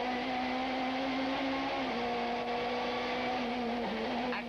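A touring race car engine howls at steady high revs on the Killarney circuit during a 1995 South African Super Touring Championship race, with a Minolta Camry and an Opel Vectra among the field; the drone is continuous, loud and close, with brief pitch dips as gears shift.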